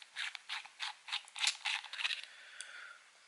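Small metal ring on a Crius rebuildable vape atomizer being unscrewed, producing a quick series of faint, close ratcheting clicks and scrapes in an even rhythm that trails off, with no voices.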